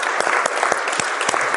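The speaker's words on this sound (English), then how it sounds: "So give yourself a round of applause." Audience applause fills a campus debate event hall, a dense, steady clatter of many hands clapping close and loud throughout.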